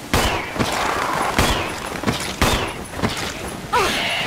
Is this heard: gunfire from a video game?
yes